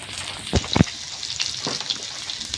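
Taro (mankochu) stirred and fried in a pan, with a low sizzle and a couple of heavy scraping thumps near the start, then lighter stirring.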